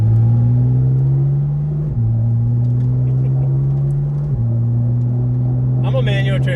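A rebuilt Porsche GT4RS with a dual-clutch PDK gearbox drives under its own power after a blown engine, its loud engine drone climbing steadily and dropping at two quick upshifts, with a voice briefly speaking near the end.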